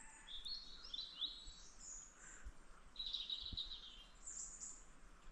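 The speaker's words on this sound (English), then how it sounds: "I love the bird sound, like bird song." Birds chirp and sing in repeated high, bright phrases over a steady outdoor background hum in Wales, fairly faint and distant.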